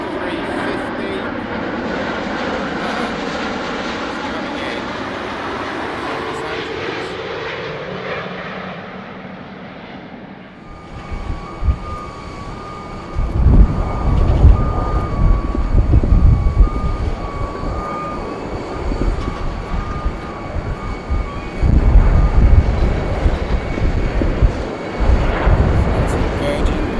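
A British Airways Airbus A350 jet passes overhead, its roar swelling and sweeping through a long pass before fading, then giving way to louder wind buffeting and rumble near the microphone.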